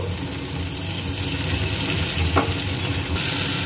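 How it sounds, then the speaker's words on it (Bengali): Chopped tomato fries in a pan, a dense, loud sizzle with brief scraping from stirring, close by and without talk. "এবার দিয়ে দিচ্ছি এর মধ্যে টমেটো কুচি। একসঙ্গে ভেজে নেব।"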